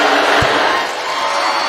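Arena crowd noise hollering during free throws at an NCAA women's basketball second-round game between Gonzaga and Utah, a loud continuous roar with one sharp thud early on.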